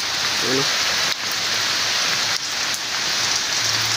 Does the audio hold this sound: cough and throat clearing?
no